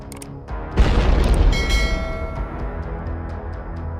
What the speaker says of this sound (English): which were all damaged by the explosions